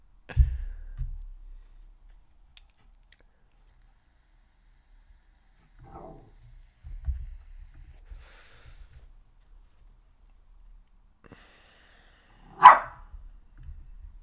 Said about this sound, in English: Archie, you cannot bark at me.